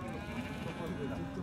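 Sheep bleat repeatedly amid the crowded bustle of a livestock market in Talas, with people talking loudly and continuously over and around the animal calls.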